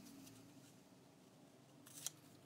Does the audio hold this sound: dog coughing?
no